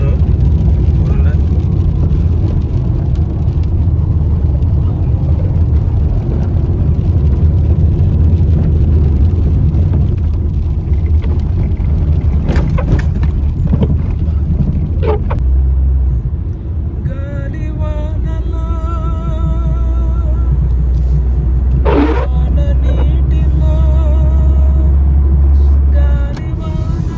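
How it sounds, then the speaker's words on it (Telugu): Cars rush past on rain-soaked roads in Kuwait with a constant low roar and tire hiss, heard from inside a vehicle, while someone talks over much of it. "ఇక్కడ వర్షం వచ్చిందంటే చాలా ర్యాష్గా తోలుతారు కువైట్ వాళ్ళు. కార్లు దేకిచ్చేస్తారు."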